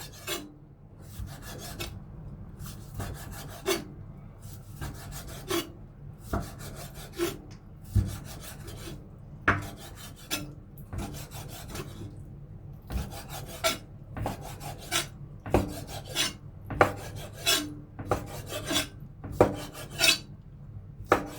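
A knife slices repeatedly through boneless chicken into small thin pieces on a cutting board, sharp rhythmic strokes with crisp rasps and soft thuds, steady and close.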